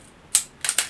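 A Pentax ES SLR camera fires its shutter at aperture 1.4 in bright light, giving a sharp close mechanical click followed by a quick double clack, all in under a second.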